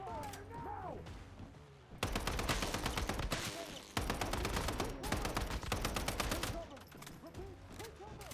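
Sustained rapid gunfire roars in the game Once Human, dense rattling bursts running loud for several seconds with a short break between, over a quieter background where a voice talks at the start and end.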